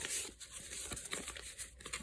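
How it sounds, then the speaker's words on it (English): Partner cards being shuffled for a tabletop crime game, a steady papery riffle and crinkle of cards rubbing together, close and moderately quiet, with no talking. "Just give them a little bit of a shuffle."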